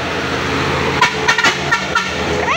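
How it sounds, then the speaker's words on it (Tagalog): Truck horns sound in short honks over a steady roar of traffic, several quick toots close together, heard from a sheltered spot in the rain. "Nakakaano yung busina ng mga truck."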